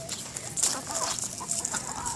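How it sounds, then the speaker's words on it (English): Chickens cluck close by as they peck at bean sprouts scattered on the ground, with soft overlapping clucks and small squawks running through the whole moment. "I'm gonna get a close up with the chickens eating."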